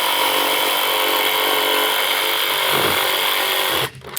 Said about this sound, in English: So I'm just gonna take my jigsaw on an angle